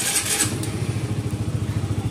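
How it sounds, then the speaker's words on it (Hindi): A Honda CBR 150R motorcycle engine starts up nearby and settles into a steady, pulsing idle, loud and close with no talk. "तो स्टार्ट कर लेते हैं बाइक को"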